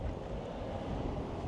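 Steady wind on a hot day in Coimbra, Portugal, blusters into the microphone as a constant low rumbling roar, with no voices.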